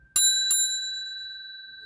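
Two quick metallic strikes of a bell, the second right after the first, leaving a clear ringing tone that slowly fades. No voices.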